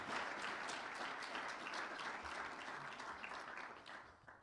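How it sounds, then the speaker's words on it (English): A round of applause from the audience at a presidential address on Botswana's diamond trade in Belgium, a faint, even roar of many hands clapping that fades out toward the end. "Let us give him in absentia a round of applause."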